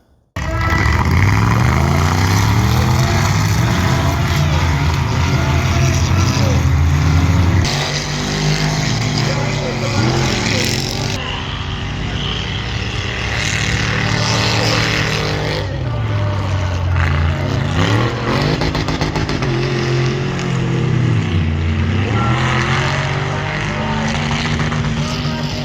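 Off-road buggies race at the Boomi Mud Trials, their engines roaring loud and continuous with rising and falling revs as they pass, while a voice talks over the din.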